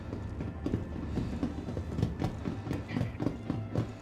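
Train in the Star Citizen video game, a steady low rumble with repeated rhythmic clacks of wheels over rail joints, fairly close and continuous, with no voices.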